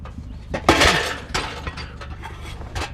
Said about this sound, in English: Cut myself to ribbons on broken glass and an old light fixture.